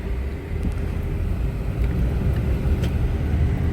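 A car driving through Chickasaw State Park, a steady close engine and road rumble from inside the vehicle with constant wind and tyre noise and a few faint clicks.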